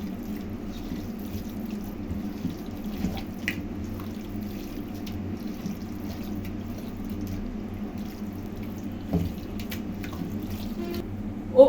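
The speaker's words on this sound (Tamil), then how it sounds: "இதில் வந்து இப்போ நான் 1 கிளாஸ் தண்ணி ஆட் பண்ணுறேன்" A glass of water poured into marinated chicken in a pot for a no-oil one-pot chicken curry, a steady, soft close-up pour and trickle with a few drips, no talking.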